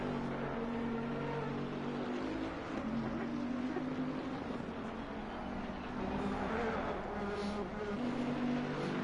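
Aston Martin race car in a racing video game, its engine holding a steady, sustained drone with gentle shifts in pitch, loud and continuous throughout with no talking.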